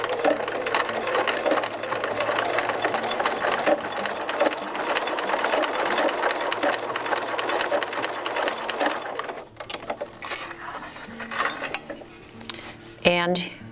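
A sewing machine zigzag stitches over the fold line of a tote bag strap in a fast, steady run close up. It stops near the end, followed by a brief back tack and a few small clicks.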